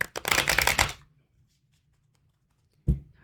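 A tarot deck is shuffled in a quick, dense riffle of papery card noise for about a second, close and fairly loud, followed by near silence and a single brief thump at the end.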